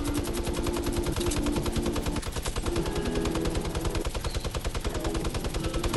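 Rapid automatic gunfire rattles without pause in a squad shooter game, a loud steady stream of machine-gun shots with no voices.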